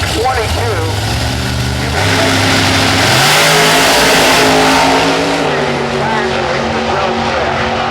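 A drag racing car with an 800-plus cubic inch Chevrolet engine roars loudly at an IHRA national event, the revving pitch climbing and shifting through gears, under steady announcer commentary.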